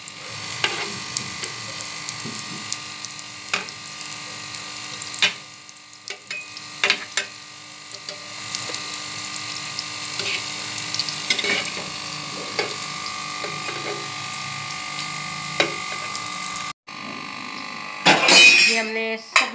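Lachha kabobs shallow frying in oil in a karahi, a steady close sizzle with intermittent clinks and scrapes of a utensil against the pan, alone and continuous throughout.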